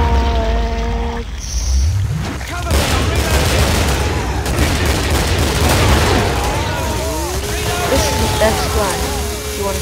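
Shotgun fire in the zombie shooter video game Killing Floor, with repeated loud blasts and overlapping gunfire amid chaotic in-game noise, as voices talk over the action.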